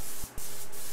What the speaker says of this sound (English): And this is an HVLP gun, so there isn't going to be a lot of overspray anyways.